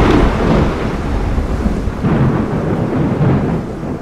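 Thunder from lightning strikes rumbling low and loud in repeated rolling swells, with rain hissing steadily underneath.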